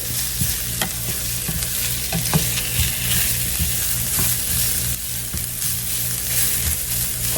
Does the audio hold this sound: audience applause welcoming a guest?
no